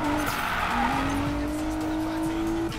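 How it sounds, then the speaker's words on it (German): A car drifts around a corner in the video game Need for Speed Payback, its tires squealing in a long sustained whine over a loud, steady engine roar. "das war ein guter Drift gerade"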